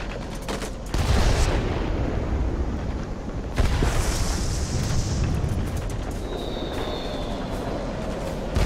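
A single bomb dropped by an F7U jet in World of Warships detonates with a loud, heavy boom about a second in, followed by a rumbling blast around four seconds, over continuous battle noise.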